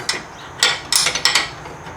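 A wrench works on the control arm bolt nut of a 2010-2017 Chevrolet Equinox, giving a quick series of close, sharp metallic clicks and ratcheting taps in uneven bursts, with no talk.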